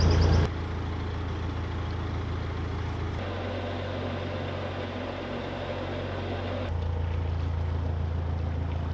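A canal narrowboat's engine idles and chugs steadily at close range on a trip over the Pontcysyllte Aqueduct, a constant low rumble that shifts pitch slightly as the throttle changes, with no talking.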